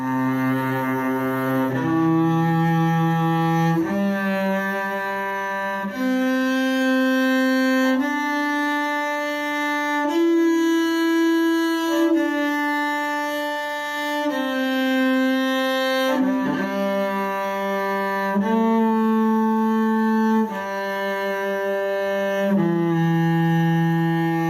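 Solo cello playing a slow Suzuki tonalization exercise in second position, long sustained bowed notes stepping up and down in pitch, close and clear, no talking.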